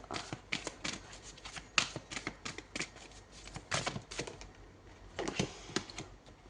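Tarot cards are shuffled and drawn in quiet, close-up bursts of soft riffling and flicking, with short pauses between the handfuls.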